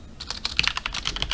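Rapid keystrokes on a computer keyboard while entering a terminal command, a quick irregular burst of close, crisp clicks over roughly a second and a half.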